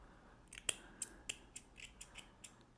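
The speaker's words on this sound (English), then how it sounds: "I don't know if you'd call them scissors, but snips." A series of crisp snipping clicks from small snips, about nine quick cuts in a steady rhythm, close and fairly quiet.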